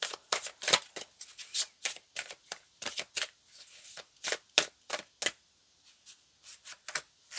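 Tarot cards being shuffled and pulled from the deck, a quick close run of crisp riffling flicks and slaps, faint and with no talk.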